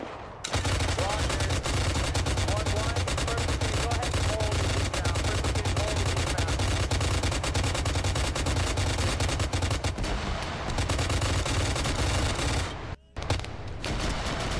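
Small arms fire crackles continuously in a military video game, dense rapid bursts of rifle and machine gun shots, loud and close, running almost the whole way before a short break near the end.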